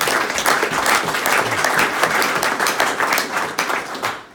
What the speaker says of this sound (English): So another big round of applause for the lads for that.